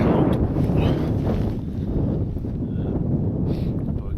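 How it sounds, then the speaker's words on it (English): Cold wind buffets the microphone on an open Lake District fell near Esk Pike, a steady low roar with gusty rumbling throughout and no other sounds standing out. "Wind's still bitterly cold."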